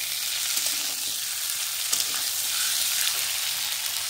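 Green chillies frying in a pan for egg curry, a steady, close hissing sizzle with occasional faint stirring clicks, no talk.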